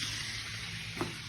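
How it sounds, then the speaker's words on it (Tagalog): A pork chop frying in a pan gives a steady, close hiss and crackle of hot oil throughout, with a brief scrape of stirring near the end. "Nagpiprito tayo ng pork chop."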